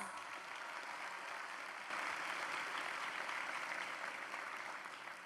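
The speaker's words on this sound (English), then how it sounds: "Round of applause." Applause from the audience at a ceremony celebrating the release of the Celia Cruz United States coin: a faint, distant wash of clapping that swells a bit partway through and holds steady.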